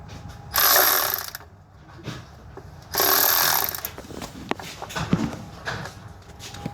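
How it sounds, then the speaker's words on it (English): A hand ratchet on timing belt cover bolts of a 2004 Toyota Sienna, two quick buzzing ratchet runs followed by scattered metal clicks and taps nearby. "Sometimes you might have to use a ratchet."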